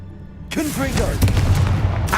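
Blasting spell going off in Hogwarts Legacy: a sudden booming explosion with rumbling, crackling bursts that follow for a couple of seconds, loud and close, with a voice heard over the start.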